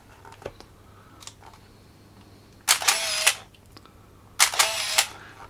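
A Canon T80 35mm camera fires its shutter twice at a slow speed, each release a loud mechanical whir-and-clack lasting over half a second, separated by a pause, with a few faint handling clicks before.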